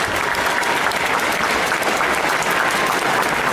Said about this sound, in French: Alors on l'applaudit bien fort.